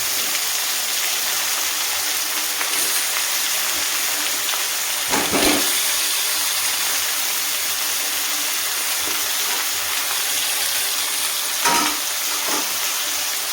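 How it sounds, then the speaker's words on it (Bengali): Chicken meat frying in a pan for a home-style curry, a steady loud sizzle and crackle with occasional sharper bursts as pieces are stirred or turned. "খুব ভালো করে মাংসটাকে এবার ভাজবো"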